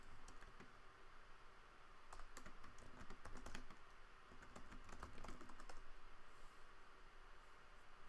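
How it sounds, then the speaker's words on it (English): Someone types on a computer keyboard, a soft irregular patter of key clicks, faint and steady for several seconds over low background hiss, with nobody speaking. "I'm typing to see if Nadia can join in"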